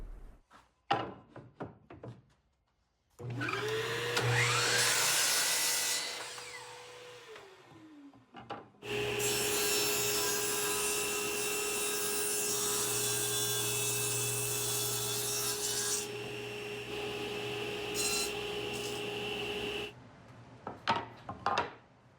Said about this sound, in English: we're going to add some chamfers here, and I'm going to cut some of the edges here at a 45